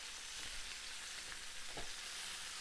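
Tuna steaks sear in a hot frying pan, a faint, even sizzle and crackle running continuously with a couple of soft scrapes or stirs.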